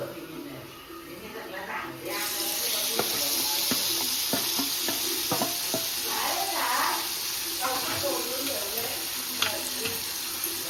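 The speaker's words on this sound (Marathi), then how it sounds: "आपण आता कोलंबी टाकू" Prawns hit hot oil on a griddle pan and burst into loud, steady sizzling with stirring scrapes, close and continuous for several seconds while a person talks over it.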